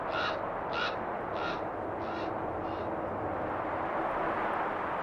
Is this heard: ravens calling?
yes